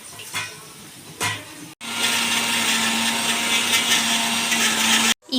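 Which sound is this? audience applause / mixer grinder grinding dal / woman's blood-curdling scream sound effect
mixer grinder grinding dal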